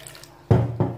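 Water is poured into the mix for Algerian square pizza in two short, close splashing pours, the second slightly softer, after a moment of quiet.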